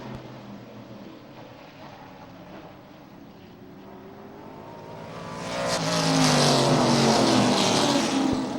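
Race cars thunder down a short-track backstretch, a steady engine drone swelling into a loud close pass as the pack roars by, with no talking.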